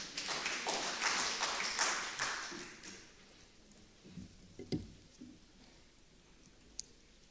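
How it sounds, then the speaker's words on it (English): Brief applause from a small audience at an international tourism and hospitality conference, a few seconds of clapping that quickly dies down to scattered claps and faint taps. "Can we give a round of applause?"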